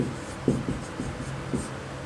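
Pen or chalk writing on a surface during a math lesson, soft scratchy strokes in short irregular bursts, quiet and close with no talk over it.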